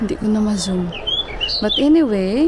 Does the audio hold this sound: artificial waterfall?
no